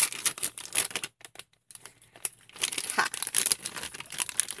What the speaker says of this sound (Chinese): 好，把它拆开来吃。